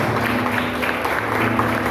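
Church congregation applauding during an evening communion service, a steady sustained wash of hand claps with a low hum underneath, no voices on top.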